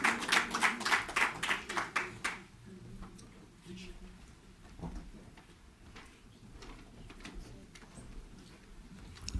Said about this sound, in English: Please, a round of applause while he makes his way.